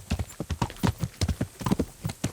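Horse hooves galloping in Kingdom Come: Deliverance, a close, steady clip-clop of hoofbeats in a quick repeating rhythm throughout.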